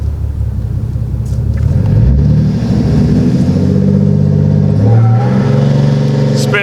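A 2021 Ram 2500 with a tuned, boosted Cummins diesel launches hard with wheelspin, its engine rumbling loud and deep as the revs build steadily through the gears, close by and without any talk.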